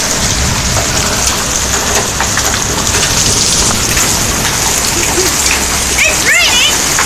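Heavy rain pours steadily onto surfaces nearby, loud and constant, with a few brief voices rising over the downpour near the end.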